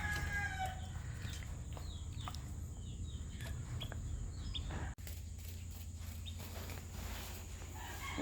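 A Bulik chicken clucks and crows nearby in a bright, steady backyard setting, with short sharp calls scattered over a constant low hum and a brief cut in the middle. No voices are heard.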